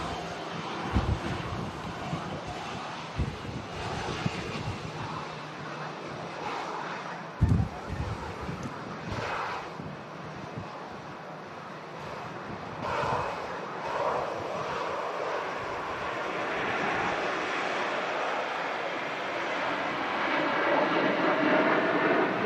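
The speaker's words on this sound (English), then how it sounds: "Here we have the next departure, the Jet 2." Jet2 airliner departing Manchester Airport in strong gusty wind, a broad steady engine roar that builds and grows louder toward the end, mixed with wind buffeting the microphone.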